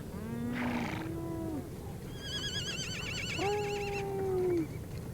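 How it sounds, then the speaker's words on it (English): Horses whinny and neigh across the Mongolian grassland, several long quavering calls in succession, one rising into a loud trembling neigh, heard close over a constant outdoor background. "taming the horses"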